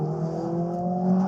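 Mercedes-AMG A45S with its 2.0-litre engine under acceleration, a steady, loud, close-up engine drone with a strong low harmonic hum that rises slightly in pitch toward the end.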